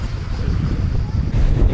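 Strong wind gusts buffet the microphone outdoors on Corfu, a loud continuous low rumble that surges stronger toward the end.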